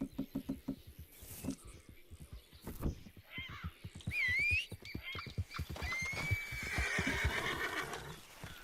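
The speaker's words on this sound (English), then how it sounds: "I'm just calling my horse now" Horse in a video game neighing after being called at night, a loud rising whinny with snorts, heard alone over busy game sounds and footsteps.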